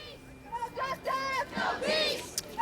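Distant crowd of protesters over the Roe v. Wade ruling, rising shouts and chanting voices in bursts over a murmur, fairly faint and outdoor.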